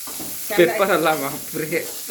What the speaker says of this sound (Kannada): ಹಿಂಗೆ ಹಸಿ ಹೋಗೋ ಮಟ್ಟಿಗೆ ಫ್ರೈ ಮಾಡಬೇಕು